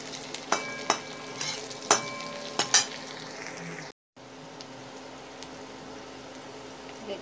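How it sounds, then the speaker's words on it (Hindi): Onions frying in a pan on a home kitchen stove as they are stirred, with several sharp clinks of a spoon against the pan early on, then a steady close sizzle on its own. "देखिए मैं प्याज को भून ले रही हूँ।"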